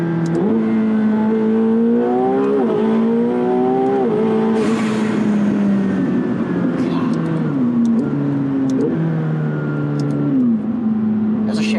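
A 900 hp McLaren 720S accelerates hard on a straightaway, its engine note climbing through repeated gear shifts with loud, close, rising drone and brief drops between pulls.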